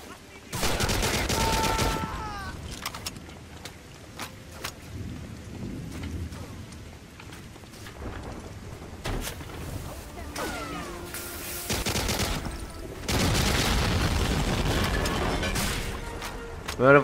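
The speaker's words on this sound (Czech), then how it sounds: "Oni možná sami přestanou střílet." Gunfire in Medal of Honor: Allied Assault – Spearhead comes in bursts of loud, close shots separated by quieter stretches, over a steady hiss like rain.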